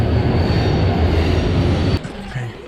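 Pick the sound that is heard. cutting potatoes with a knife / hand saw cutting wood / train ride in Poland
train ride in Poland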